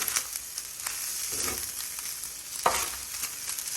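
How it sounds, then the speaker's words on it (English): Fried rice sizzles on a griddle over medium heat: a soft, steady frying hiss with occasional scraping stirs as it is spread out, fairly close and quiet, with no talk. "And now we're just going to let it cook on here, man. We're trying to dry it out."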